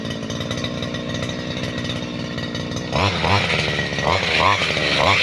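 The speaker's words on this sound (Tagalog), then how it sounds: "grass cutter" A grass cutter's engine drones steadily while clearing overgrown coffee plants, then rises into a louder, rougher, revving buzz with repeated surges as it bites into the thick growth, close and continuous.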